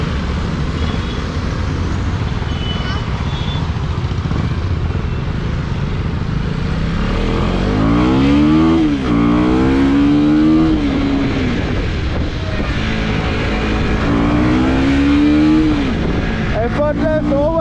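A Husqvarna Vitpilen 250 motorcycle accelerates through an overtake, its engine note climbing in pitch twice over steady road and wind noise, close and loud.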